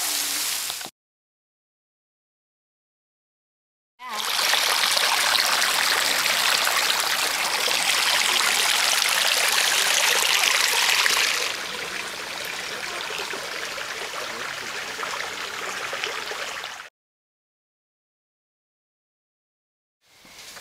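Rushing water flows steadily with a bright, hissing spray in the rain on a trail to the Emerald Pools in Zion, loud and close, running for several seconds between abrupt silences.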